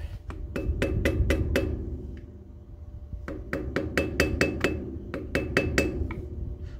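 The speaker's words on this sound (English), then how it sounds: "So let's go ahead and pop that hub off, or cap." Sharp metallic taps come in quick, close rhythmic runs of strikes with brief pauses between them as a cap is knocked off an easy-lube trailer axle hub.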